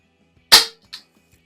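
A Healthways 175 air pistol fires a single sharp, loud shot, followed about 0.4 seconds later by a fainter, brief impact-like snap, with silence around both.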